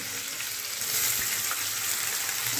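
Onion and curry leaves sizzling in hot oil in a pan, a steady close frying hiss with faint crackle running throughout, no voices.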